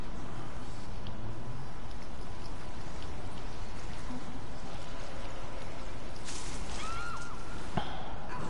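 Steady rain falling in the Resident Evil 0 video game, a dense continuous patter that holds at an even level through the whole stretch, with a brief sharper crackle near the end.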